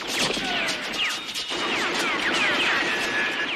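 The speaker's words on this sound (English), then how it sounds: "Then Rambo opens fire on the police station itself" Rapid gunfire and crashing impacts in an action-film scene as a Green Beret veteran shoots up a small-town police station, loud and dense throughout with streaks of ricochets and breaking debris.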